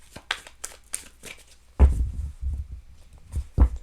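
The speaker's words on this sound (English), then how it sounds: "One more shuffle." A short final shuffle of a tarot deck: a few quick papery flicks and card snaps, then a louder dull thump as the cards are set down, close up and without talk.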